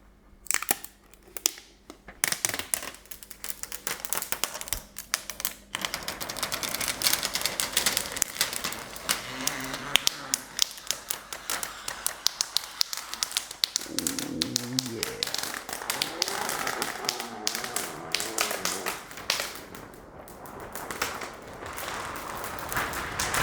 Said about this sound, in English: Oh, that was such a clean peel.